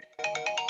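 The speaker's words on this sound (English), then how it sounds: "Somebody needs to turn their phone off." A mobile phone ringtone goes off in a committee meeting room. It is a short, bright electronic melody of four rhythmic pulses starting abruptly, moderately loud, with no talking over it.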